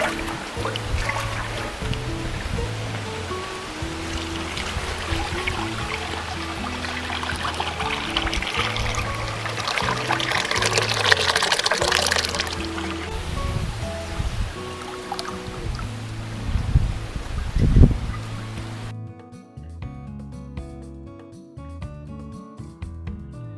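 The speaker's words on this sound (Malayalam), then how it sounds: "ഇനി ഇത് മുഴുവനായിട്ട് നമുക്കതൊന്ന് ഒഴിച്ചു കൊടുക്കാം." Strained halwa mixture poured out in a continuous liquid stream, a soft trickling and splashing under steady background music, swelling briefly before the music carries on alone.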